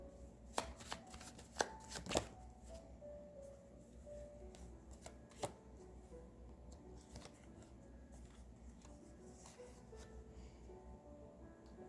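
Tarot cards being shuffled and drawn, a few crisp riffling snaps early on followed by soft, faint card handling and occasional taps, close by in a quiet room.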